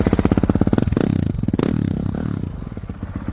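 A Honda 450 RWE motorcycle engine runs close by with a rapid, throbbing idle, then swells into a brief rev before settling back to a steady, loud chug.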